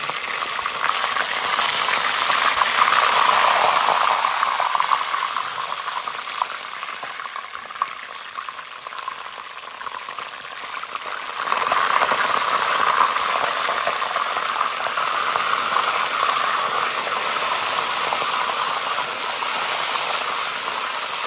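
Young turkey meat cooks in a pot with a loud, continuous bubbling sizzle like heavy rain, swelling in two long waves with a brief quieter stretch between them.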